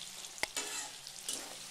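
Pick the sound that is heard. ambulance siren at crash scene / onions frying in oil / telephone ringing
onions frying in oil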